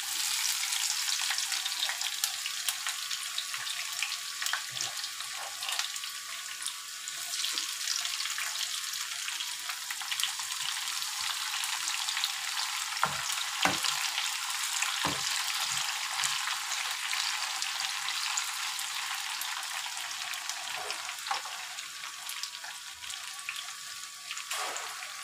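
Cut garlic and curry leaves fry in oil in a pan for a Tamil tomato thokku, giving a continuous close hiss with scattered pops and a few soft utensil knocks.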